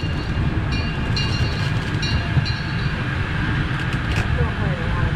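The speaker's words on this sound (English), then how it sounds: "I hear the train a-coming." Amusement park train rumbling past at Camden Park in Huntington, West Virginia, a steady low rolling drone with faint metallic squeals, continuous and fairly close.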